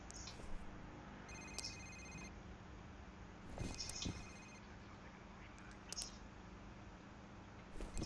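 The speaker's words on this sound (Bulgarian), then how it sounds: "Мене ми се причу някакъв телефон да звъни" Telephone ringing inside the horror video game F.E.A.R., heard as a few faint, brief ring bursts spaced apart over a steady low ambient game hum.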